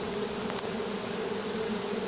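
A captured honey bee swarm in a cardboard box at Soignolles-en-Brie fills the air with a dense, continuous buzzing drone, close and unbroken.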